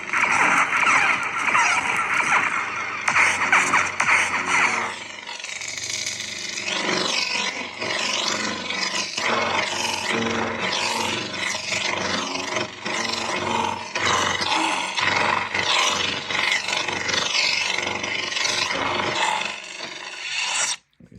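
A KR Sabers DV6 lightsaber running a Proffie 3.9 board: loud, continuous buzzing hum with rapid swishes and crackling clash-like bursts, dense and close throughout before cutting off abruptly at the end, with no talking.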